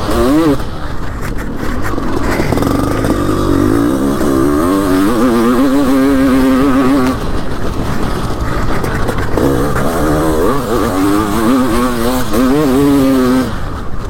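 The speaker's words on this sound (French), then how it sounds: "Est-ce que vous sentez la reprise de la moto?" A 500cc motorcycle accelerates hard through repeated rising engine sweeps with gear changes, loud and close, while a rider talks over the roar.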